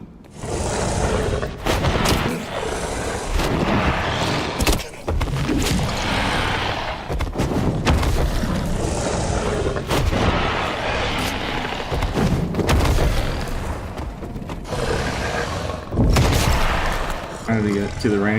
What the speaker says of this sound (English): And there's a ranger shooting at us.